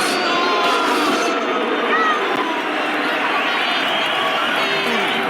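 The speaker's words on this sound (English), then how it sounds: "Listen to this crowd." Hostile arena crowd from a Rocky IV film scene, a dense, loud, continuous roar of booing and jeering voices filling the space without pause.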